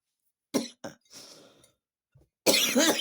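A few sharp coughs near the mic, followed by a throat-clearing rasp, a short pause, then a louder burst of coughing.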